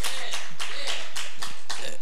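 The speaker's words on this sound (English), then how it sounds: "Come on, give the Lord a hand clap." Church congregation clapping hands in praise, a steady run of sharp, evenly spaced claps filling the room with no talk over them.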